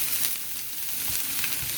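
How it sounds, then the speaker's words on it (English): Chicken and vegetables sizzle in hot oil over medium-high heat for a stir fry, a close, steady hiss of frying with faint stirring scrapes and small pops, with no voices. "You want it sizzling."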